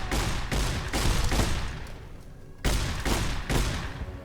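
Shotgun blasts in Fallout New Vegas, several loud booming shots spaced about half a second apart with sharp onsets, a brief lull, then two more heavy blasts close by.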